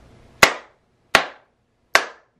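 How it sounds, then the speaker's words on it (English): Three sharp sync claps made for a recording, each loud, close and isolated, spaced roughly three-quarters of a second apart with silence between them. "Move on. Sync claps."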